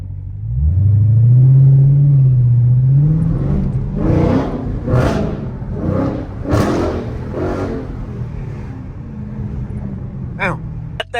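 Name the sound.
straight-pipe car exhaust revving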